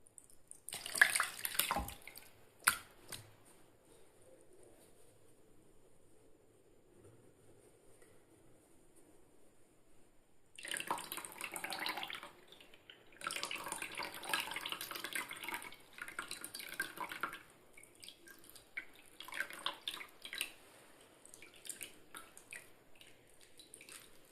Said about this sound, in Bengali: এইবার আমি এটার থেকে জলটাকে সম্পূর্ণ ঝরিয়ে নেব।